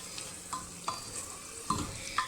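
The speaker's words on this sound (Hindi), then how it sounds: "इन सारे मसालों को मुझे अच्छे से अब डालकर इन्हें भी कम से कम 5 मिनट तक गोश्त के साथ भूनना है" Mutton with turmeric and coriander powder sautéing in a pan for dal gosht, a steady sizzle broken by a few sharp spoon scrapes and clinks against the metal.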